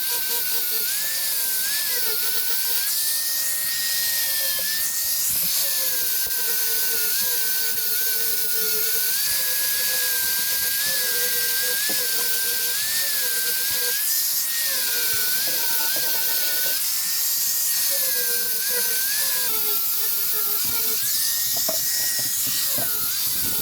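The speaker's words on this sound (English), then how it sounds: "fire up the angle grinder with a 40-degree flap wheel and go ahead and get a lot of this residual epoxy faired off" An angle grinder fitted with a 40-degree flap wheel fairs residual epoxy off a boat hull, a steady high-pitched whine with a gritty abrasive hiss running continuously, pitch dipping and rising as the wheel is pressed and eased.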